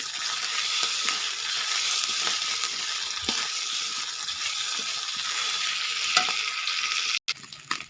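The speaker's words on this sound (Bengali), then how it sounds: "তো আদা বাটা দেওয়ার পর আমি এটাকে নাড়িয়ে নেব" Ginger paste fries with bay leaf and dried chilli in hot oil while being stirred for aloo dum, giving a dense, steady close sizzle with faint spoon scrapes and a brief cut near the end.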